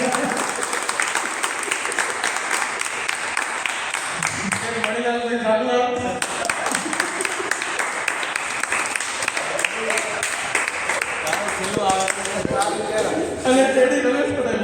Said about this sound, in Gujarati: તાળીઓથી વધાવી લો ભાઈ.